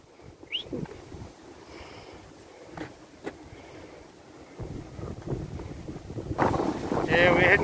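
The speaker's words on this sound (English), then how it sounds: "It's a bit windy." Gusty wind blows outdoors in a park, a steady low rumble of buffeting against the microphone that builds louder toward the end, with a few faint background sounds and no clear talk.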